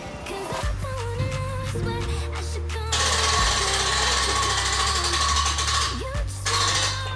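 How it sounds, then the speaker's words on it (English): Loud, continuous whirring of a power sander grinding against a boat hull outdoors, shifting pitch as it works, with no talking. "We're going to start sanding outside the last little bit."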